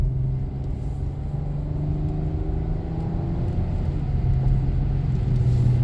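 Steady, low road rumble and engine hum fill the cabin of a 2014 Dodge Grand Caravan cruising along, with a faint whine building slightly near the end.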